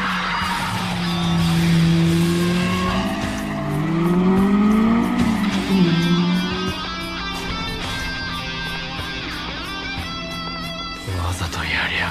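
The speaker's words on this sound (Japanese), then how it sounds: "レッドゾーンまで一気に吹けるこの音" A race car engine in an animated Initial D street race revs high toward the red line, with tire squeal and a passing car under excited speech.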